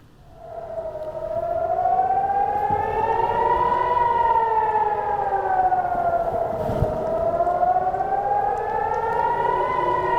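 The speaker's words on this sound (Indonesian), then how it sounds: "Sirene terus meraung saat beberapa roket melintasi langit kota Naharia sebelum menghantam permukiman." A civil defense siren wails steadily in the city of Nahariya, Israel, during a rocket attack, its pitch slowly rising and falling in long sweeps, loud and sustained.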